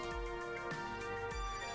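Phone vibration sound effect from the video game Arcade Spirits: repeated low buzzing pulses over a steady layered electronic tone, fairly quiet and continuous, with no voices.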